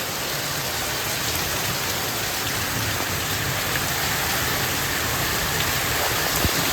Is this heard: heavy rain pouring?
yes